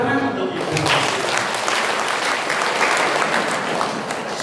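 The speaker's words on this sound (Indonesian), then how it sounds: "Tepuk tangan untuk Ibu." A room full of people at a Catholic Easter prayer gathering claps steadily for a few seconds, a dense, even round of applause.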